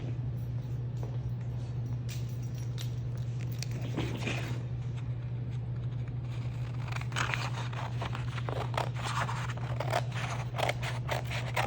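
Scissors snipping paper squares, a run of short crisp cuts that grows busier toward the end, heard close over a steady low hum with no talking.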